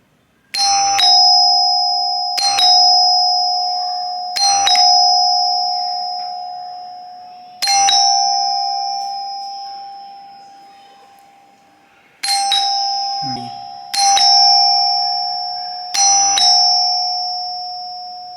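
An electronic calling bell chimes repeatedly, seven bright ding-dong tones with pauses between them, loud and close in an otherwise quiet room.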